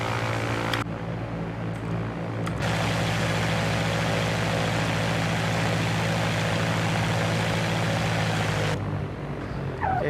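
A Cessna 172 Skyhawk piston engine idles steadily during a taxi to the runway, with a constant low propeller drone and hum that runs loud and unbroken throughout, with no talking.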